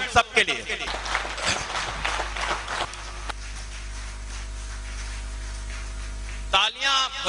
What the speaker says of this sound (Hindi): सो मैं चाहता हूं एक बार जोरदार तालियां आप सब के लिए